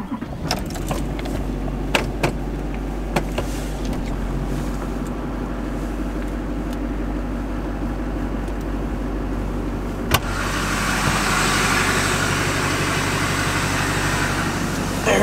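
A Duramax diesel pickup rumbles steadily as it pulls free of mud, then the engine and road noise swell louder as it gets rolling down the road, with a sharp knock partway through.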